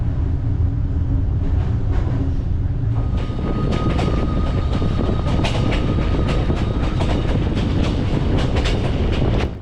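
An overnight train rides the rails from Saigon to Hanoi, a continuous close rumble that grows rougher and louder partway through, with rhythmic clickety-clack from the wheels and rattling of the carriage.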